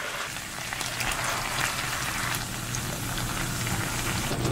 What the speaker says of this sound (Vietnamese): Bây giờ mình sẽ xào phần cá hộp này cho cá được thơm hơn nè.